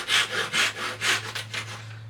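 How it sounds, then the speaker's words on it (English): A hand saw rasps through a wooden dowel in about eight quick back-and-forth strokes, close and steady, over a faint low hum. "nip it off with the saw"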